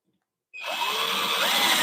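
A power drill drives screws into wood in a woodturning shop, snapping on abruptly after a moment of silence into a loud, steady, high whine held close up.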